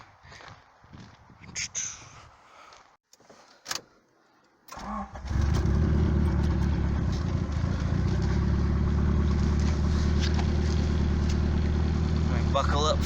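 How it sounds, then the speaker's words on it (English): A turbocharged Honda Integra with a stage 3 clutch starts moving after some brief muffled speech and rustling, its engine rising into a loud, steady drone that fills the rest of the clip. "let's see how bad this clutch is slipping"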